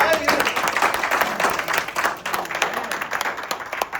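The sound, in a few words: crowd clapping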